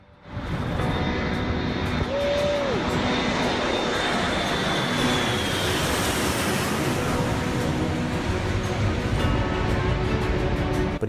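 A large jet airliner on landing approach at Sint Maarten's short seaside runway, its loud sustained engine roar holding steady and near, with a whining tone sliding past over surf and wind.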